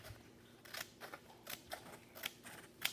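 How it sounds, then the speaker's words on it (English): Scissors snip through a folded paper airplane wing in a series of quick, crisp cuts spaced irregularly over a few seconds, close and fairly quiet. "Scissors to cut part of the long wing off."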